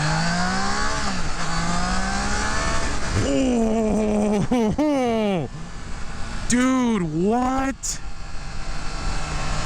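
A 2024 Triumph Trident 660 motorcycle engine revs hard and accelerates through several gears, its pitch climbing and dropping between shifts, loud and close, with a rider speaking briefly over it.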